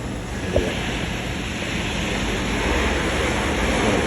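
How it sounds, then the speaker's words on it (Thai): Water in a container, used to test a Toyota Hilux Revo thermostat valve, starts to boil, giving a continuous loud, broad rushing hiss with a faint click near the start. "น้ำเริ่มเดือดแล้วนะครับ"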